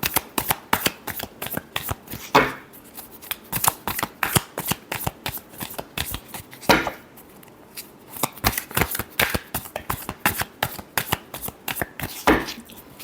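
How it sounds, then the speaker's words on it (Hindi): Tarot cards being riffled and shuffled in rapid crisp flutters, close and steady throughout, with a few heavier snaps of the deck. "Last shuffle."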